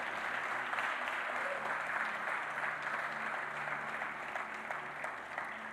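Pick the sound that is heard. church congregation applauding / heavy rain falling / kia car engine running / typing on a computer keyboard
church congregation applauding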